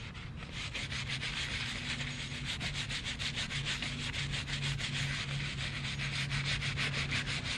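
A brush scrubs a tombstone in steady, rapid back-and-forth strokes, a dense, continuous rasping rub heard up close with no voices.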